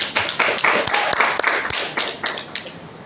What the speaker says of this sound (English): Let's clap for Bill Gates.